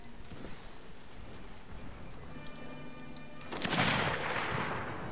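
Musket gunfire in the Napoleonic-era battle game Mount and Blade: Napoleonic Wars, with faint scattered pops early on and a louder, broad boom near the end that rings out over ambient battlefield noise.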